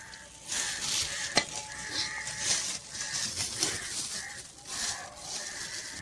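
Sliced potato for aloo laccha pakora being stirred and tossed with coriander and gram flour in a bowl. A continuous close rustling and scraping runs throughout, with one sharp click early on and no talking.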